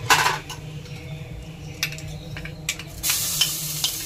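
Red chili powder, turmeric and ginger-garlic paste sautéing and being stirred in a pan, a steady close sizzle with scraping utensil strokes and a few metallic clinks, swelling louder near the end.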